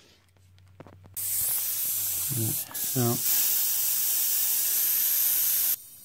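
Compressed air from a compressor hisses steadily into a water heater's thermal expansion tank through a tire inflator gauge, a loud, continuous spray-like rush lasting several seconds after a brief spoken word.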